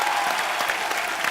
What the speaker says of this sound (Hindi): तालियां हो जाए इरफान भाई और जिमी बाजी के लिए।